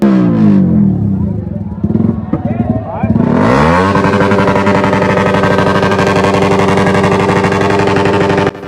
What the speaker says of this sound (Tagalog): Grabe, yung lakas ng motor na to.